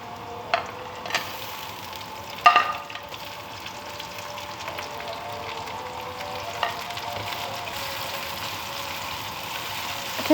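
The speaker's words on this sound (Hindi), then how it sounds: "टमाटर डाल के इसको 1 मिनट के लिए फ्राई करें" Chopped tomato added to golden-brown onions frying in oil for a radish (mooli) curry, giving a steady close sizzle with a few clinks and scrapes of a spoon near the start.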